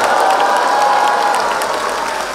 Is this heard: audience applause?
yes